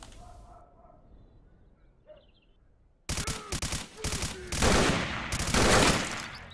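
Gunfire in the video game S.T.A.L.K.E.R.: Call of Pripyat, with a quiet stretch before a burst of loud, closely spaced shots from a shotgun and other weapons.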